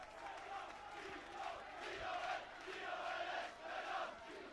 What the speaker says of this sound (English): You can hear that crowd, that choir.